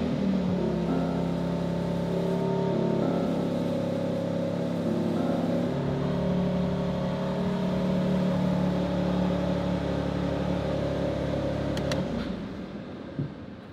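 A BMW X3 M Competition engine fires up and settles into a loud, steady rumbling idle with some revving, close by and alone, then cuts off near the end.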